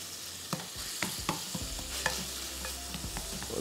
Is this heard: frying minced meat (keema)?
yes